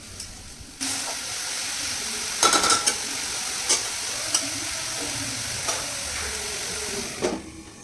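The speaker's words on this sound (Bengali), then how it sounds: "লবণ আর হলুদের সাথে আর নিচে পড়ে থাকা ফোড়নের সাথে মানে ওই রসুন কুচি আর লঙ্কা কুচির সাথে শাকটাকে ভালো করে মিক্স করে নিয়ে" Leafy greens are stirred in a pan with salt, turmeric, chopped garlic and chilli: a steady soft sizzle punctuated by scraping spatula strokes and a few sharp clinks against the pan.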